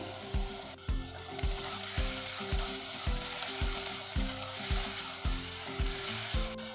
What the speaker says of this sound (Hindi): लो मीडियम आंच पे 2 से 3 मिनट तक इसको फ्राई करेंगे।